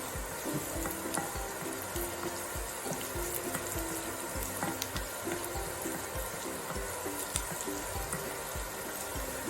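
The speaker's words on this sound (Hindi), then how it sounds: "गार्लिक और ग्रीन चिली को डाल के अच्छे से मिक्स कर लेंगे।" Garlic and green chili, with ginger, frying and being stirred in a pan for vegetable spring rolls: a continuous sizzle broken by frequent light scraping clicks of the spatula.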